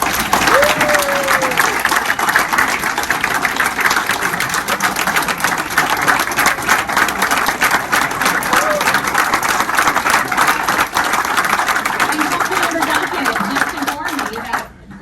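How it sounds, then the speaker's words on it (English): Attendees at a Rotary club meeting give sustained, loud applause for a police officer, steady dense clapping for about fifteen seconds before cutting off, with faint voices mixed in. "will you please join me in applause for Officer Del Bagno"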